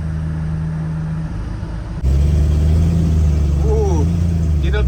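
An old high-mileage farm truck engine drones as it climbs a hill, a loud steady mid-range hum that surges louder partway through as the load builds, with rising whine toward the end.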